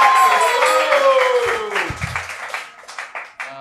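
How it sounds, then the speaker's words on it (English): A comedy roast battle audience in New York claps and cheers loudly, a dense burst of applause that gradually thins and fades out over a few seconds. "Give him a round of applause."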